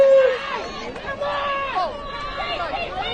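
Families gathered at a rugby league game at the Queensland Murri Carnival make a murmuring crowd babble and chatter beneath a man's steady, prominent commentary.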